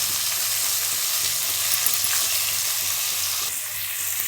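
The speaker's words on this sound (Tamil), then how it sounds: "நல்லா நல்லா வதக்கிச்சிடலாம்" Tomato and garlic paste sizzles and fries steadily in a pan for an egg curry, a continuous close crackle with occasional stirring and no voices.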